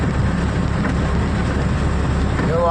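Heavy rain pours down steadily in a downpour around a vehicle in Madhurapadu, Kavali, a dense continuous hiss close by, with faint low rumbling underneath.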